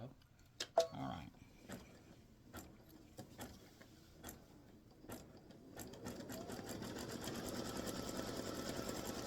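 A sewing machine runs a satin stitch around baseball bat and star applique pieces on a patriotic quilt block, starting as faint intermittent bursts and then settling into a steady, close whir.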